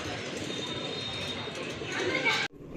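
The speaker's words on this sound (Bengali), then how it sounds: "এটা হচ্ছে আপনার মাদি কবুতর আর এটা হচ্ছে নর কবুতর।" A pair of pigeons, a male and a female, at a pigeon sale, with soft, rolling coos close by over a busy background of other birds and people talking.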